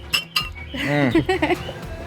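Glasses clinking in a toast at a Texas brewery, two quick bright clinks up close followed by a ringing tone, with voices talking around them.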